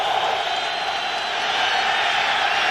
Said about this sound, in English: Crowd rises as one here on 3rd and goal from the 8.